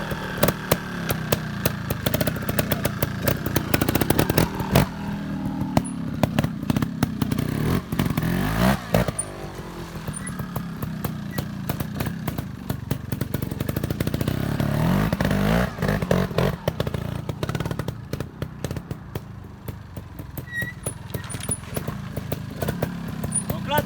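A 2020 Beta Evo 250 Factory trial motorcycle engine revs and putters unevenly for a long stretch, surging and dropping as it rides, with clattering and occasional voices underneath.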